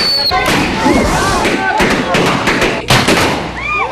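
Loud, crowded outdoor din of New Year boga blasts, homemade PVC pipe cannons fired with lighter fluid, with repeated sharp pops and booms layered over voices and general street noise.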